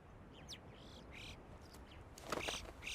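Faint, scattered chirping calls from a yellow-billed chough come and go over a soft outdoor hiss, with a louder cluster of calls near the end.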